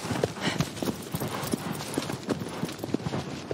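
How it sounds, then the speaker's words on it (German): Steady, rhythmic clip-clop of horse hooves at a moderate walking pace, close and even throughout, in the video game Shadow of the Colossus on PS4. "ich liebe es, hier rumzureiten"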